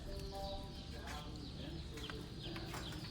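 Chicks peep faintly inside a farm store, with thin chirps buried under a constant wash of indoor store noise.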